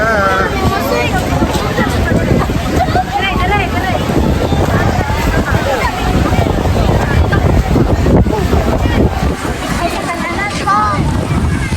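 Strong wind buffets the microphone in a loud, continuous roar at a seaside spot by a boat, with voices faint and partly buried beneath it.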